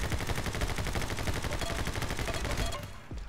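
A submachine gun in a video game fires a sustained rapid burst at a frying pan, a loud continuous rattle of shots that cuts off abruptly near the end.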